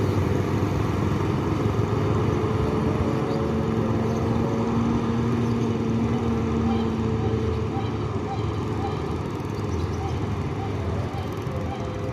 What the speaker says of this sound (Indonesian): Dan bus Gumbaran Jaya eksekutif masuk lagi